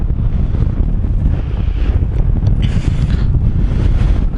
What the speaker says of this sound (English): It's quite windy, 23 kilometers an hour.